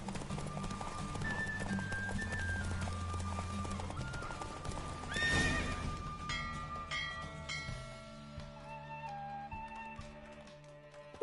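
Horse hooves clip-clopping at a gallop in The Witcher video game, a steady rapid beat under game music, with a brief burst of rushing noise midway before the pace fades into quieter music.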